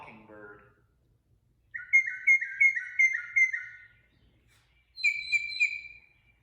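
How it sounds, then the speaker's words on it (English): A northern mockingbird sings clear, whistled phrases, one series of about six rapid repeated notes followed after a pause by a higher burst of four, fairly close against a quiet background. "And that's what the northern mockingbird sounds like."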